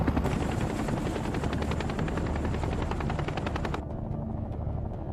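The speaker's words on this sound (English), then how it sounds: "the choppers drop to treetop level." Military helicopters fly low at treetop level, a loud continuous rotor thump with heavy rumble filling the scene, slightly easing near the end.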